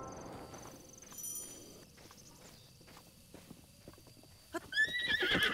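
A horse in Zelda: Breath of the Wild sounds faintly, with soft hoof thuds and footsteps over quiet outdoor ambience, ending in a brighter, louder burst of game sound near the end.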